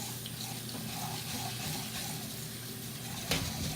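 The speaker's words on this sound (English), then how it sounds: "So run your water and go ahead and lightly rub your rice." A kitchen tap runs steadily while sushi rice is rubbed and rinsed in water, making a constant faint hiss of flowing water with a small clunk near the end.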